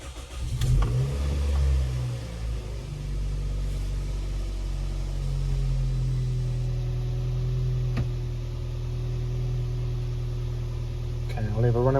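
A Toyota WiLL Vi hatchback fires up on a jump pack, its engine catching with a brief rev and then settling into a steady mid-pitched idle, loud and close, while someone talks nearby.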